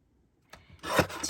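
Scissors snip through lace ribbon in a few quick, close cuts, a faint rub at first and then a louder rasping cut near the end.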